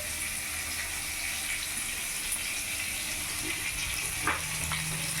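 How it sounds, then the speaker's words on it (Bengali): Silver carp pieces coated in masala spice sizzle in hot oil, a steady close broadband hiss with faint crackles and a few small pops near the end. "তেল গরম হয়ে গেছে। এবার আমি মাছগুলো দিয়ে দেবো।"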